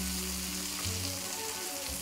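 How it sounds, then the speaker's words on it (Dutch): Courgette slices sizzle steadily in a hot frying pan, a continuous close frying crackle with no voices. "En dan gaan we dan de courgette inbakken."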